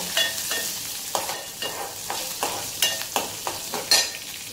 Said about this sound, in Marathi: आपण कापलेल्या मिरच्या फोडणीमध्ये, कढीपत्ता आपण परतून घेऊ